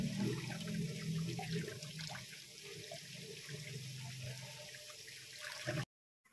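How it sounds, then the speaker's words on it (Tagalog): Peeled cassava being washed under a running kitchen tap, a steady close splash and hiss of flowing water lasting several seconds before cutting off abruptly. "huhugasan natin ito sa running water"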